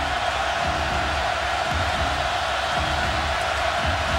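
Penn State football stadium crowd on a third down, a broad, steady roar of many voices filling the air continuously, loud and undifferentiated throughout.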